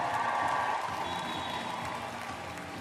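A basketball arena crowd in Leuven at a women's EuroBasket qualifier between Belgium and Finland gives steady, moderately loud applause with a general crowd roar that slowly eases.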